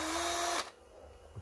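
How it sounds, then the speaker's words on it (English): A power drill spins a soft toilet brush, a loud high whirring burst that cuts off abruptly after about half a second, followed by a quiet room. "Get yourself a softish toilet brush, put it on your drill."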